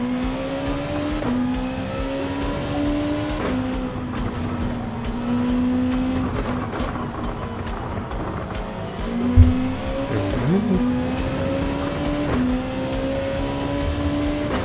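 A Honda NSX race car in Gran Turismo 7 at the Maggiore circuit roars continuously through a daily race, engine pitch rising and falling through gear shifts, with tire squeal in corners and a brief thump midway; no talk.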